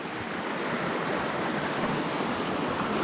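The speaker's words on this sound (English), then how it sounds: "Finally, the main creek." A main trout creek flows steadily nearby with a dense, constant rush of water, loud and unbroken throughout and with no one speaking.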